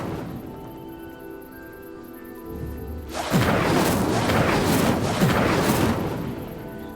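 Following a quiet stretch, the Incendio fire spell in Hogwarts Legacy ignites dry vines with a sudden loud whoosh that swells into a sustained crackling, roaring blaze close by.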